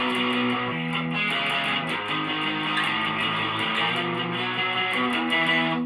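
Electric guitar strumming the riff unmuted, ringing distorted chords in a steady driving rhythm, loud and continuous with no talk.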